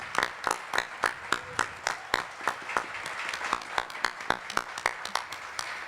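Scattered, fairly quiet hand claps ring out at a statehood constitutional convention, a small group clapping unevenly in sharp individual strikes rather than a dense roar.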